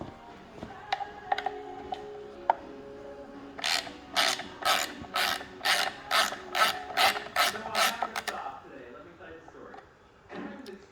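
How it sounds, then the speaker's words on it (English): Allen key turning a 5mm Allen bolt on a Polaris side mirror, a run of about a dozen quick, evenly spaced ratcheting clicks close by, after some quieter handling noise. "You're going to unscrew this bolt."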